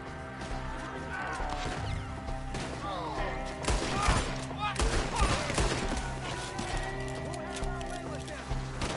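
A sustained gunfight in the video game Red Dead Redemption: dense, overlapping shots and volleys crack continuously, with shouted voices mixed over the shooting and a hint of horse sounds.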